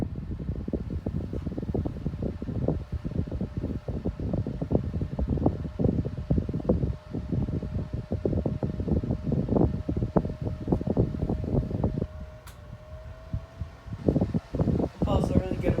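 A Mainstays mini box fan with a loud set of blades runs close by, giving a continuous fluttering whoosh with a low steady motor hum and a faint tone that shifts briefly near the end.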